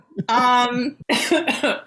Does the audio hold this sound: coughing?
yes